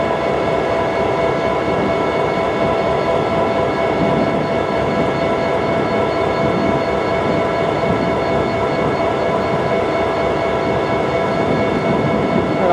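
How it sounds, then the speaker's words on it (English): An EMD GP30-2 and an EMD SD40-2 diesel locomotive idle side by side, a steady loud rumbling engine throb with a faint constant whine, unbroken and without voices. "let y'all listen to the GP30-2 on the right and the SD40-2 on the left."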